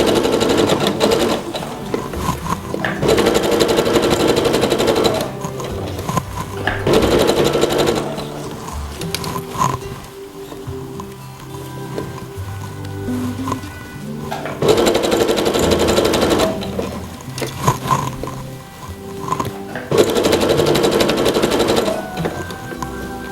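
A sewing machine stitches a dress in loud, steady runs of rapid mechanical chatter, stopping and starting several times with short pauses between bursts.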